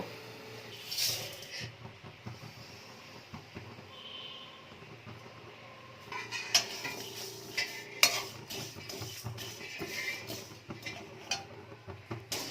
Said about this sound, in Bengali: এবার এই মশলাগুলো প্রথমে কড়াইতে হালকা করে একটু নাড়াচাড়া করে নেব শুকনো খোলায়